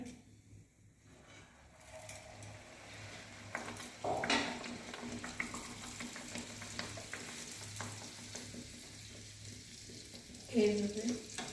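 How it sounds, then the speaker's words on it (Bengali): Puffed naan bread frying in hot oil in a home kitchen, a soft steady sizzle running throughout with a few stirring and utensil clinks, brief louder bursts near the middle and end, and no speech over it. "আমি আর একটা ভেজে দিলাম।"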